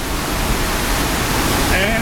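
A waterfall in the Philippines, a loud, close, continuous rush of falling water covering everything, with a brief voice near the end.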